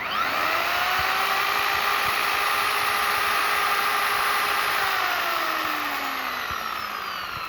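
A steady electric chainsaw motor whine hums at idle at a constant pitch, close and continuous, with no voices, then eases slightly lower near the end. The saw runs off a power bank.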